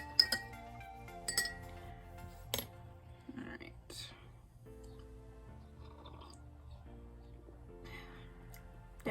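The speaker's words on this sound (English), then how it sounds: "give it a stir." A spoon stirs strawberry green fruit tea, brewed from a pyramid tea bag, in a cup, giving a few light glassy clinks early on over a steady low background hum.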